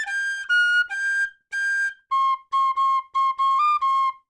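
A whistle plays the opening two bars of a well-known solo slowly: four long, breathy higher notes, then a quicker run of about eight short, clean notes at a lower pitch, alone and clear.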